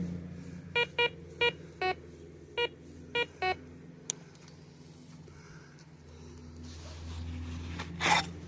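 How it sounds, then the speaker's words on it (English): A metal detector pinpointer gives seven short, sharp electronic beeps in an uneven rhythm, close and clear over quiet outdoor ambience, followed by faint rustling. "Pinpointer on the detector says it's right there."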